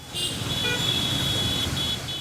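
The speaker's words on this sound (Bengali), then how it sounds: "দিনভর এমনই যানজট দেখা যায় রাজধানীর অনেক স্থানে" Car horns toot and blare through a jammed, waterlogged Dhaka street, a loud sustained honk over dense traffic rumble, with more horns joining briefly.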